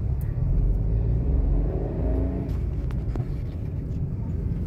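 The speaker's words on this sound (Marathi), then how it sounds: "हे बघा किती ट्रॅफिक आहे आता." Road traffic rumbles nearby as car engines pass and rev, a continuous low drone with a few brief higher whooshes.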